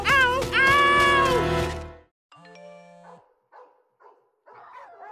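A cartoon dog barks in a short run of loud, strained yelps, followed by a few quieter, separated sounds and a faint tone.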